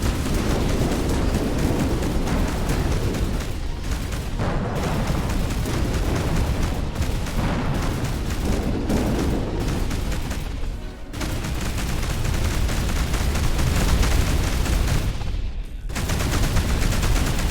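Spaceship cannons fire rapidly in the space action game Between the Stars, a loud, dense, continuous barrage of blasts and booms with a few brief gaps.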